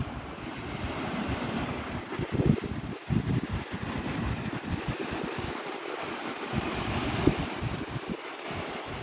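Ocean waves at Navarre Beach, Florida, wash in continuously with a soft, broad surf hiss, mixed with buffeting wind noise on the microphone and no talk.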